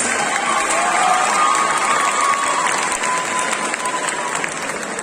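At a cosplay contest in Nantes, an audience applauds and cheers the Honoka Kosaka Love Live cosplayer with a sustained wash of clapping mixed with high shouts and whoops.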